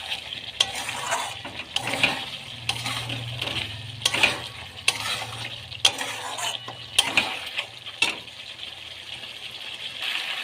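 Mutton being dry-fried and stirred in a pan with spice gravy, the liquid mostly cooked off: steady close sizzling with repeated scraping stir strokes and occasional clinks of a utensil against the pan, no talk.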